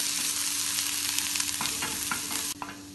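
Chopped ginger, garlic and green chilli sauté in hot oil in a pan, with a steady close sizzle and a spoon scraping and stirring in quick irregular strokes, no voices.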